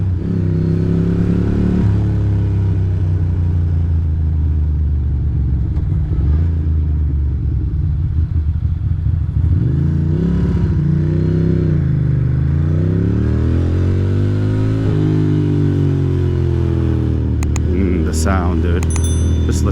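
A Ducati Monster 620 motorcycle engine runs loud and close throughout, its pitch rising and falling with repeated revs, a continuous low rumble with a few brief bright clanks near the end.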